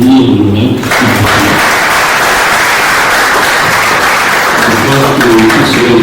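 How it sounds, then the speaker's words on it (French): Audience applause at a festival event, a dense, loud, sustained burst of clapping from a crowd, with a voice speaking briefly before and after it. "Si on peut applaudir l'honorable."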